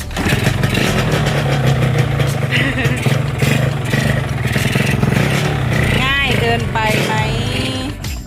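A Yamaha VR150 motorcycle engine, unused for about a year, catches and settles into a steady, loud idle, with people talking over the running motor.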